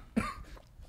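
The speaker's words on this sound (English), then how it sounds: "Cough definitely on that mic" A single short cough into a podcast microphone, close and fairly loud, fading quickly into quiet room noise.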